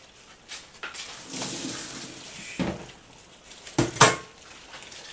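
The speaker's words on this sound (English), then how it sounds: "I've put the pasta, the cooked pasta, in the colander to drain, give it a shake around, get all that water out" Cooked pasta tossed in a colander to drain, with light metallic rattling and soft sloshing in short bursts, ending in a sharper clatter near the close.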